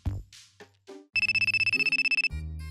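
A mobile phone rings with a bright electronic trill of rapid pulses for about a second, clear and close. Brief soft tones and effects come just before it.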